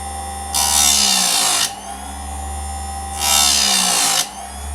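A bench-mounted chain sharpening machine grinds a chainsaw chain in two loud, rasping bursts, each about a second long, over a steady motor hum that keeps running between passes.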